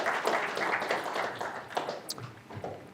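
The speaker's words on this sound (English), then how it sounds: "Have a round of applause for our volunteers." Participants at an air traffic management career session clap for volunteers, a brief, thinning burst of scattered hand claps that tapers off within a few seconds, fairly close.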